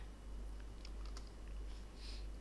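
Keys tapped on a computer keyboard while entering search text, soft scattered clicks in short bursts over a steady low hum, fairly quiet with no talking.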